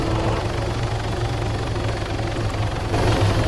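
Continuous loud helicopter rotor and engine drone in the video game Arma 3 Epoch, a steady thumping whir close by with no pauses.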